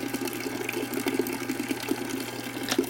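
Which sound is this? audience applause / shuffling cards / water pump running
water pump running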